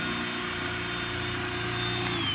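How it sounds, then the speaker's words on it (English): A power drill whines steadily and continuously while drilling holes in plastic buckets, a loud, close mechanical buzz with no pauses. "they're all getting drilled right now"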